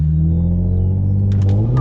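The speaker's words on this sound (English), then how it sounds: "Let's try to launch it even harder this time though" A Hyundai Genesis Coupe 3.8 launching hard, its engine holding a loud, close, rumbling drone with rising tone, joined by brief sharp bursts near the end.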